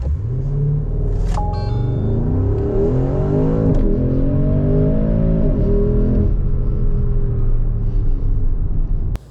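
Porsche Cayenne Turbo Coupe engine launching from a performance start, a loud steady rumble with revs climbing in repeated rising sweeps, close and continuous with no talk.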